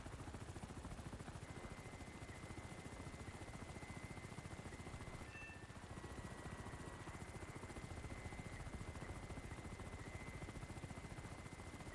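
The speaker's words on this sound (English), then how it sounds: "Do I hear a heli?" A helicopter in a military video game makes a steady, dense rotor chop that fills the whole stretch at a constant level, with no voices over it.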